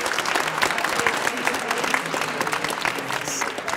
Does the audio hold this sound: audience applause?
yes